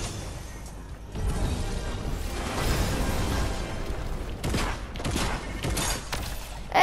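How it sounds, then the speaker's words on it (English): Gunfire rattles toward the player in Fortnite, a sustained burst of shots in the middle followed by several sharper bangs near the end, fairly loud and without talk. "I'm being shot at right now"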